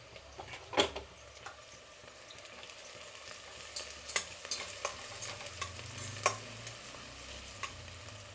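Onions frying lightly in a pan before green chillies go in, a steady soft sizzle with intermittent stirring clinks and scrapes, close and fairly quiet, no talking.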